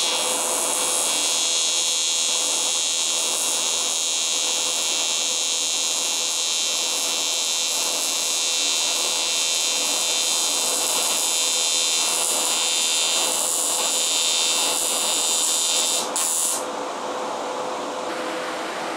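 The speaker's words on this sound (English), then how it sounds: "I'm about to start the second weld" A TIG welder, a Primeweld 225x, runs on aluminum with a steady, loud high-pitched buzz and hiss that holds for most of the stretch, then cuts off abruptly near the end.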